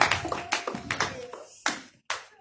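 Church congregation clapping to acclaim the Lord, a loud burst of many hands fading into scattered claps with a couple of final isolated claps.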